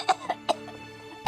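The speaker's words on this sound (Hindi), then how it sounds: "देख मेरे को खांसी आ रही है।" A few short, sharp coughs from a person, three quick bursts close together and one more after a pause, fairly faint and close.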